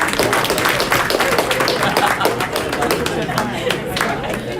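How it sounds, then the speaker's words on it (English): A crowd of bidders in an auction room applauds after a lot is sold, a dense, steady wash of many hands clapping at close range for several seconds, with faint voices mixed underneath. "Give a round of applause."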